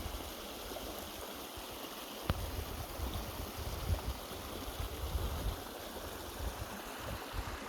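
A river flows through the Xecnup ravine in Joyabaj, a quiet, steady rushing murmur of water heard from a distance, with a soft knock partway through.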